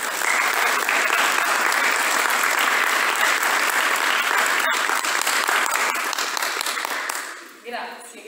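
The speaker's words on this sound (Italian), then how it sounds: "lascio la parola a Natalia, un applauso." Dense, loud applause from an audience at an Italian book presentation, sustained and even for several seconds before fading out at the end.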